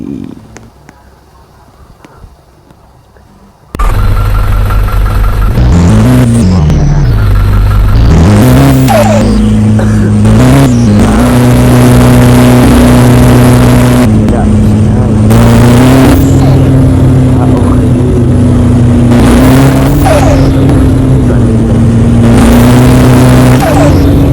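A van engine driven in Roblox, starting after a few seconds of near silence, then a loud, steady droning motor that repeatedly rises and falls in pitch as it revs and shifts, holding on close and alone.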